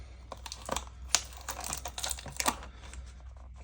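Clear packing tape ripped off a cardboard box of Flames of War 21st Panzer Division miniatures, a series of short crackling, tearing bursts close by, irregular and brisk, with no talk.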